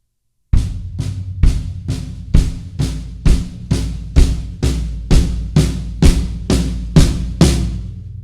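Drums play a steady eighth-note pattern on floor tom and snare over bass drum, low booming hits about two per second, each ringing out briefly before the next; no talking.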